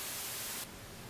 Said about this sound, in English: we have a generator built in, so we can turn on white noise